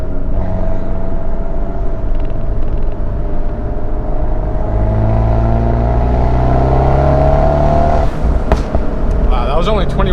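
A Fiat 124 Spider Abarth fitted with a big turbo accelerates on an open road, a loud continuous engine drone that climbs steadily in pitch before a shift near the end, heard from inside the car.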